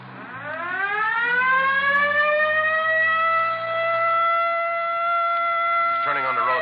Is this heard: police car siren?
yes